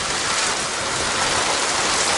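Heavy rain pours down over a garden plot in a dense, unbroken roar of drops hitting the ground, loud and close, with no voices.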